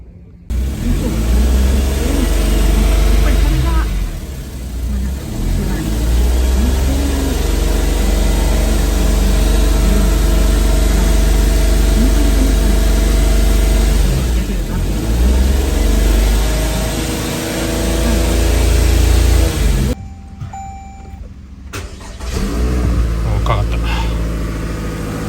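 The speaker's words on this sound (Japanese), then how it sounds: "じゃあ救援側の車はちょっとエンジンかけます。" Toyota Alphard 30-series rescue car during a jump-start from a flat battery: its engine catches and settles into a steady, humming idle nearby, with people talking over it throughout.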